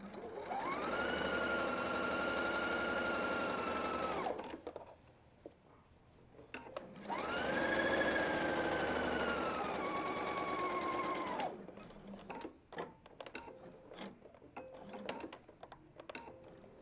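A sewing machine stitches a quarter-inch French seam on fabric for an inseam pocket. Two steady, close runs of whirring last about four seconds each, separated by a short pause, followed by quiet handling noises.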